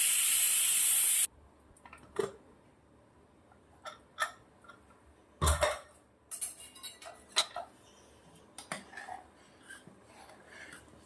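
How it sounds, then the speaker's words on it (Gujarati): A pressure cooker of dal, taken off the heat after two whistles, releases steam in a loud, harsh hiss for just over a second before it cuts off. Scattered clinks and taps of utensils follow in a quiet kitchen. "બે સીટી પડી ગઈ છે કુકર નીચે ઉતારી દીધું છે हवा निकाल देते"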